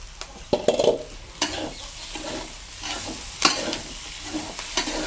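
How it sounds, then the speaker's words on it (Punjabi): Green chili and garlic paste sizzles with fried onions in a pan while being stirred, giving a steady frying hiss broken by clattering scrapes of a spoon against the metal, close and without talk. "ਹੁਣ ਆਪਾਂ ਇਹ ਚ ਪਾ ਦਿਆਂਗੇ ਹਰੀ ਮਿਰਚ ਤੇ ਲਸਣ ਦਾ ਪੇਸਟ"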